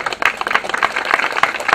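Brief, lively applause at an inauguration for the craftsman who built a mission cross, with individual claps clearly audible in a close, uneven patter from a small gathering.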